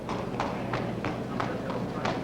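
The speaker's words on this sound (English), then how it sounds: "That's the inspection. The next horse is Mike Tango, ridden by Bruce Davidson, the 7-year-old thoroughbred." Thoroughbred horse hooves clip-clop at a steady walking rhythm on firm ground during the horse inspection at the 1978 World Eventing Championships in Lexington, Kentucky, with a constant murmur of voices and background noise.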